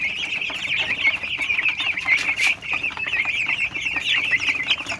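Twenty-one-day-old broiler chickens crowded together in a pen, a dense continuous chorus of high peeping and clucking from many birds close by, without speech.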